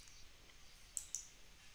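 A computer mouse clicks twice in quick succession, two sharp, faint clicks over a quiet background hum during software work.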